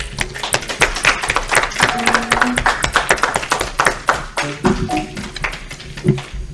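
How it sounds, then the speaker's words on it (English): A church congregation at a Sunday service claps, sharp individual hand claps close by in an uneven rhythm, with some voices and a few brief tones mixed in. "Let's give Reverend Teresa a round of applause."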